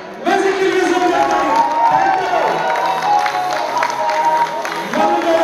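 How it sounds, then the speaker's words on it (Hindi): Loud, steady crowd noise at a Bhojpuri film first-look event, cheering and clapping blended into a continuous roar with shouting voices, sustained for several seconds with a brief dip near the end. "जोरदार तालियां म्यूजिक के लिए"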